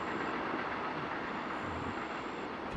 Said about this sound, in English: You hear a train go past.